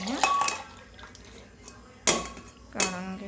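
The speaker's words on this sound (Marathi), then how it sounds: "हा शिजलेला वाटाणा मी एका दुसऱ्या भांड्यामध्ये काढून घेत" Cooked peas are moved into another pot with clanking metal utensils, a few sharp clinks of spoon against vessel standing out over soft background sounds and faint speech.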